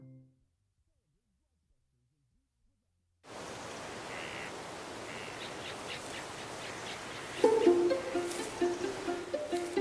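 Native forest birds of Guam call in an outdoor setting after a silent opening, with faint chirps and tweets over steady ambient noise and a louder, nearer call sequence near the end.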